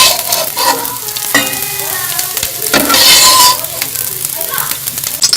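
Shredded cabbage sautés in a pan over low heat, a constant hissing sizzle with scraping stir strokes, louder near the middle, while someone talks over it.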